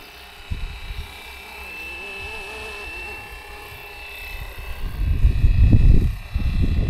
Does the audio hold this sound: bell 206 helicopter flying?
yes